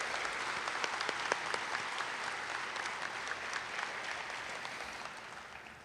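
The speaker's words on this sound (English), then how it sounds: "So if we give them a round of applause for spending a Saturday evening with us." An audience at a white coat ceremony claps, a full crowd applause that is loud at first and gradually thins and fades toward the end.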